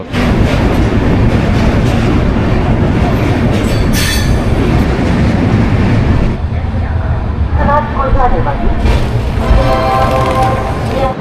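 Humsafar Express rolling into platform 9 at Varanasi Junction, a loud continuous rumble of wagons with squealing wheel tones rising near the end, and a voice speaking over it.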